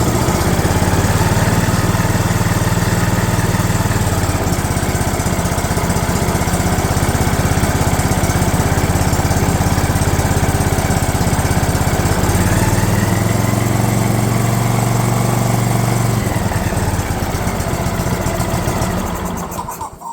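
A DR mower engine that sat for years runs loud and rough at close range, its chugging rising and falling, then cuts out near the end.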